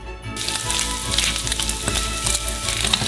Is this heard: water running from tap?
no